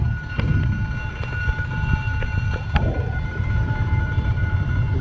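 A narrow-gauge train rolls past in Vietnam as a continuous low rumble of wheels and cars on the track, with a few sharp metallic clanks and squeals over the steady noise.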